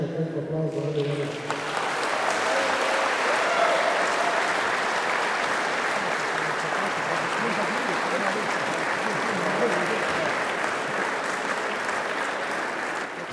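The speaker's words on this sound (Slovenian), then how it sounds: "še enkrat nekaj aplavz" Audience at a sports awards ceremony for athlete of the year breaks into sustained, dense applause that swells after a brief voice at the start and holds steady and loud for over ten seconds.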